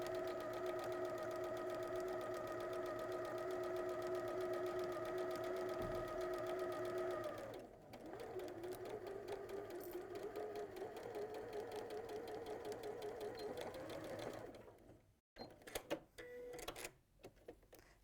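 A sewing machine stitches an apron seam with a steady mechanical whir and rapid needle chatter, stops briefly, restarts for a second run, then ends with a few clicks and handling noises.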